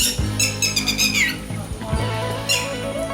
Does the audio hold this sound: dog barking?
no